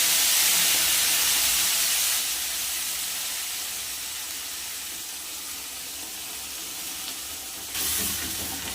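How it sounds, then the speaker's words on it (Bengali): Onion and ginger paste fries in oil with cardamom and cinnamon, making a continuous broad hiss and sizzle. It starts loud, eases down after a couple of seconds, then rises again near the end. No voices are heard. "ভালো করে মশলাটা কষিয়ে নেবো"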